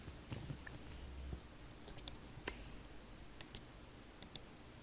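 A computer mouse and keyboard click softly in a quiet room, with about a dozen sharp, isolated taps spread unevenly while someone works through an accounting software exercise.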